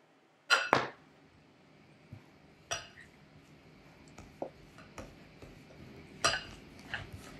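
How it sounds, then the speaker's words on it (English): A fork mixes flour into a crumbly dough for a chocolate dessert, giving a few sparse, sharp clinks and taps against the bowl, spaced irregularly over a quiet background. "I pull the spatula out and move to a fork, which really helps to kind of break everything up and help it kind of crumble"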